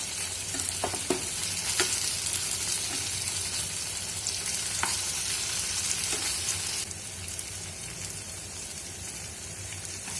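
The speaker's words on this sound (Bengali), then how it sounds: "পনিরগুলোকে উল্টে পাল্টে লাল লাল করে ভেজে নিচ্ছি" Paneer pieces crackle and sizzle steadily in hot oil, with occasional light taps and scrapes as they are turned over.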